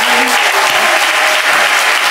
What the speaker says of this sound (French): Applaudissez bien Lucas.